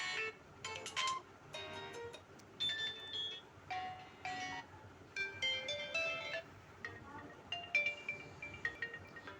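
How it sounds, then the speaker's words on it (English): A ringtone preview plays on an Oppo R17 Pro phone: a quiet, busy melody of bright chiming tones and short beeping notes, continuous for several seconds with no voice over it. "Firstly, play ringtone."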